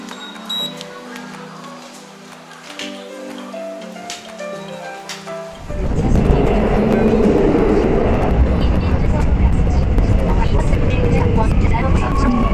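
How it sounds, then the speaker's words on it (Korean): A subway train ride: after several seconds of quieter tonal sound, a loud, continuous rumble of the moving train sets in and holds steady to the end. "일단 지하철로 이동해보도록 하겠습니다."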